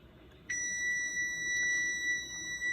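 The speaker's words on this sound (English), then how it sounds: "That is another timer that I need to watch." A kitchen timer starts beeping during pressure canning, a thin, high, continuous electronic tone that switches on abruptly and holds steadily over faint room noise.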